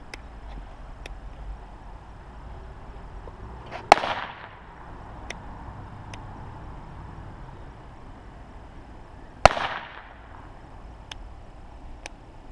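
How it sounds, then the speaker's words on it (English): Two sharp firecracker bangs several seconds apart, set off by nichrome wire, each a loud crack with a brief crackling tail, over a steady low background hiss. "And I got three firecrackers all wired up with nichromium."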